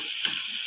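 A steady hiss of a dal tempering sizzling in hot oil with tomato, close and continuous, with a faint clatter underneath.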